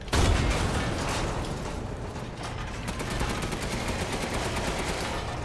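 Steady bursts of gunfire in Resident Evil Village, inside Heisenberg's factory, keep a dense, continuous rattle with rapid repeated shots through the whole stretch, loud and close with no talk.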